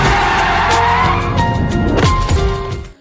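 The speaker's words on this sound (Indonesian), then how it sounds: "tiba-tiba sebuah truk muncul entah dari mana dan menabrak Gao dengan keras" A truck skids hard with loud tire squeal and a sharp crash as it strikes a person, a dense burst of screeching and impact noise with no talking.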